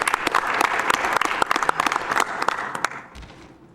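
Crowd applause at a live Half-Life 2 speedrun event, SGDQ 2014, a dense burst of clapping that fills the room and then thins out and fades over the last second.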